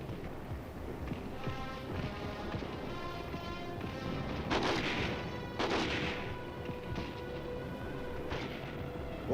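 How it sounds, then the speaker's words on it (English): Combat gunfire from tanks and machine guns in the Korean War, a dense continuous roar of shots with heavier booming bursts rising at intervals, loud and sustained on an old, rough recording. "While tanks and machine gun crews lay down a blanket of fire to keep the enemy pinned down"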